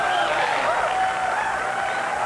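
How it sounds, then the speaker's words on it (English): A television studio audience applauds for a guest in a dense, steady wash of clapping that fills the whole moment, with crowd noise mixed in. "Big applause for Lily."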